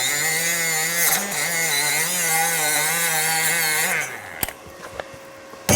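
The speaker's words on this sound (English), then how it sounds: "Let me buff this guy here." A power buffer polishes a stainless steel TIG weld, giving a loud, steady, grinding whir with a slightly wavering pitch for about four seconds before winding down, followed by a few light knocks.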